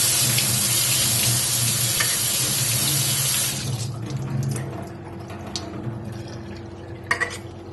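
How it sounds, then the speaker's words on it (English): Cold tap water pours steadily over canned fruit in a strainer for a few seconds, a close, full rushing splash that stops and gives way to light drips and small clinks. "open this up, rinse with cold water, drain."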